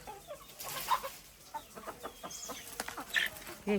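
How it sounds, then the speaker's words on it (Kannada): Chickens cluck and squawk in short irregular bursts, fairly close, with a few sharper calls rising above the chatter. "ಕೋಳಿಗೋಳ ಏನು ಗಲಾಟೆ ಮಾಡ್ತೀರಾ?"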